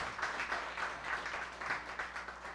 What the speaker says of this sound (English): Give the choir another round of applause